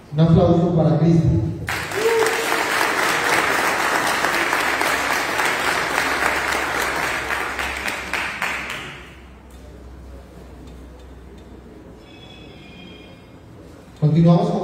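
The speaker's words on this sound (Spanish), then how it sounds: "Un aplauso para Cristian." A crowd breaks into loud, sustained clapping at an official naming ceremony, the applause rising sharply after brief speech and tapering off around nine seconds into a quiet hall with faint tones.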